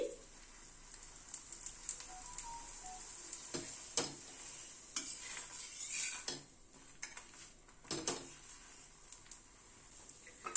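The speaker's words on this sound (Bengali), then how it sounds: "প্রথমে শুকনো একটুখানি সেঁকে নিচ্ছি, তারপরে হোয়াইট অয়েল দিয়ে দিচ্ছি" A paratha toasting on a tawa over a gas flame, then frying in white oil: a faint, low sizzle broken by light scrapes and taps of a spatula against the pan.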